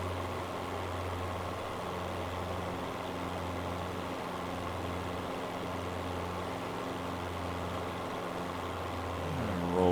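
An aircraft engine drones steadily in Microsoft Flight Simulator, a constant low hum with a few steady tones, moderately loud and unchanging for the whole stretch, with no talking.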